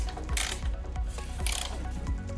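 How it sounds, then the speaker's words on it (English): Ratchet wrench tightening the rear nut on an HSU 24 unit: two quick bursts of close, crisp clicking separated by a pause, over a steady low mechanical hum. "We're gonna go ahead and tighten up this rear nut."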